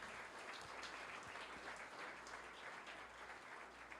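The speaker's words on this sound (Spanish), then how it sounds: "Vamos a dar un aplauso al Señor porque esto es para celebrar" A church congregation gives a sustained round of applause to the Lord in celebration, steady crowded clapping with a low hum beneath, heard at a distance and quite faint, with no voices over it.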